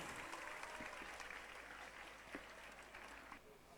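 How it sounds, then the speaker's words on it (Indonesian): Audience applause at an anniversary and building inauguration ceremony after a santri nasyid group's performance, steady dense clapping filling the hall at a moderate, somewhat distant level. "Mari kita berikan tepuk tangan yang meriah."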